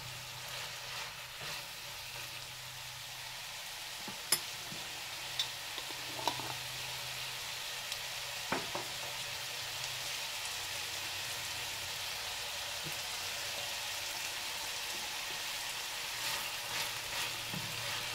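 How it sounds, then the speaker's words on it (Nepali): Vegetables seasoned with black pepper fry in a pan for pasta, giving a steady, soft sizzle with scattered sharp clicks and taps from stirring utensils against the pan. No voices. "यसलाई चाहिँ एकछिन केही बेरसम्म फ्राई गर्ने।"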